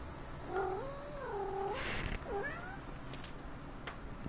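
A cat meows repeatedly with drawn-out, wavering cries in The Sinking City video game, up close and clear over a faint background hum.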